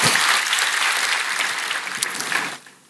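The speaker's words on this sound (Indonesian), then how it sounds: "Berikan tepuk tangan kita untuk Tuhan kita." A church congregation breaks into loud, dense applause that holds steady for a couple of seconds before quickly dying away.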